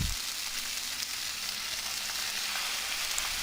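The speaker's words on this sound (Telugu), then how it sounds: "పాలకూర మొత్తం వేసి సిమ్లో పెట్టుకొని ఫ్రై చేసుకోవాలి" Chopped spinach (palak) frying in a pan with dried red chillies for dal gives a steady, dense sizzle with no pauses, close and continuous.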